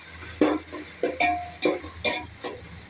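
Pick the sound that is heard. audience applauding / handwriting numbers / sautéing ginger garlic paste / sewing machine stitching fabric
sautéing ginger garlic paste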